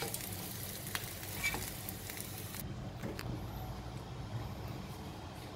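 Filipino-style pork belly sears in a hot frying pan with a loud, continuous sizzle that holds steady throughout, with no voices over it.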